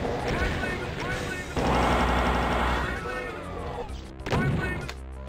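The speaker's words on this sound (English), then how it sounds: "let's use rocket launcher" A rocket launcher fires repeatedly in the video game Voxel Doom 2, giving loud blasts and crashing explosions mixed with dense game effects and music, with a voice talking over the action.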